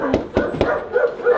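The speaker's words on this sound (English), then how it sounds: "Uh-oh, I hear the dog." A dog at a house yaps and whimpers, three short sharp barks close together followed by softer whining, moderately near, with faint background noise.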